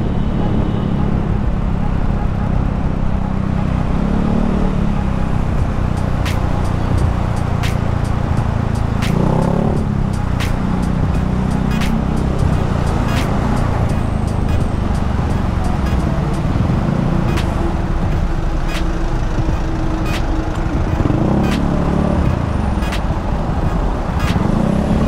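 Heard onboard a Honda Beat FI V2 scooter fitted with an Apido exhaust pipe, a constant buzzing engine note rides through traffic with surrounding road noise and occasional ticks and clicks.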